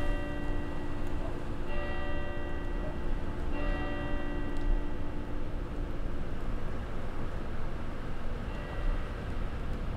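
Church bells ring late at night in Fernbus Simulator, heard as repeated tolling strokes over a constant rumble of bus engine and road noise inside the coach.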